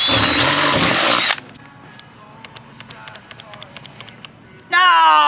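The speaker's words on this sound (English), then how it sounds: "I'm just gonna make drill holes for each square." A power drill bores holes in the metal roof of a Dodge Sprinter van being converted, with a loud, whining burst, a quiet stretch of light ticking taps, then the drill spinning up again.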